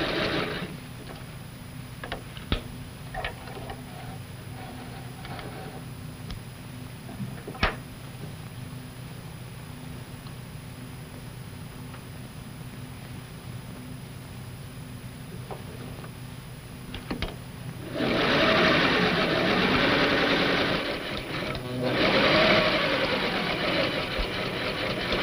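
A sewing machine stay-stitches the neckline of a jumper bodice front, first as a quiet steady whir with faint ticks, then running louder and faster in a sustained burst near the end.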